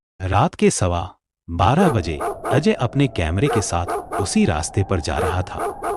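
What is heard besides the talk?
dogs barking in the distance at night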